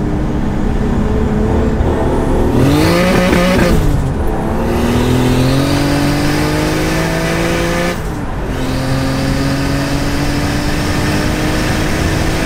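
Brake-boosted launch of a car followed by hard acceleration, the engine revving up loud and close through rising gear pulls with a brief dip at each shift, no talk over it.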